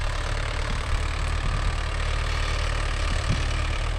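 A Mahindra Yuvo Tech Plus 585 4WD tractor engine runs steadily nearby, a continuous low diesel rumble with faint rhythmic knocks and no talk.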